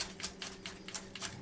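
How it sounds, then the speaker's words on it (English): A kitchen knife rocks through leftover chunks of coleslaw vegetables on a cutting board, giving light, crisp, evenly spaced taps roughly every third of a second, close and fairly quiet with no talking. "just give them a little chop with the knife. This is the rocking motion."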